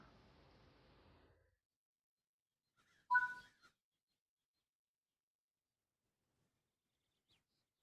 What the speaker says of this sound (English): In fact, we can hear an owl.